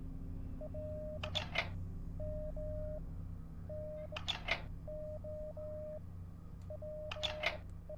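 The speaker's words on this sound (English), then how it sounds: "I was already doing Morse code." Repeating electronic tones in the puzzle game Dark Fall 2: Lights Out, short steady beeps in groups of three or four about every three seconds, heard alone over a low constant hum.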